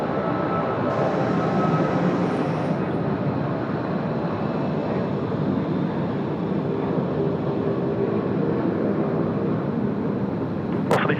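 A Boeing 737-700 jet taking off at Sydney Airport gives a steady, loud broadband roar that holds throughout, with no talk over it.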